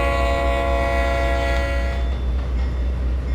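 A locomotive horn blares steadily in the Trainz Plus railway simulator, a long sustained harmonic blast held loud and close for several seconds, with a low engine rumble underneath.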